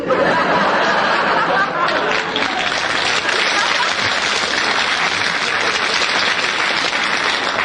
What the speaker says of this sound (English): as long as you challenge, the audience will applaud